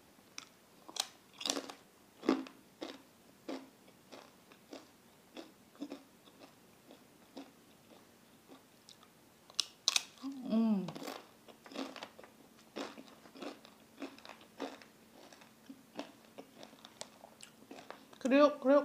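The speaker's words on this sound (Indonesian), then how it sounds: "Kita makan peyek di silent." Crunchy Indonesian peyek crackers bitten and chewed close to the mic, a long run of crisp, rhythmic crunches with brief pauses, one drawn-out creaky bite midway and quieter chewing between.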